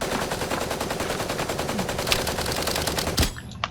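Rapid automatic gunfire in a shooting video game, heard as a loud continuous rattle of shots that cuts off abruptly near the end, with no talk.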